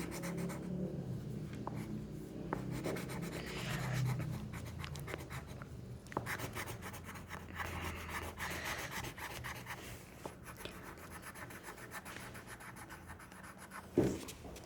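Steady scratchy rubbing of a silver pencil colouring a drawn cat on paper, continuous strokes close up, with one sharper knock near the end.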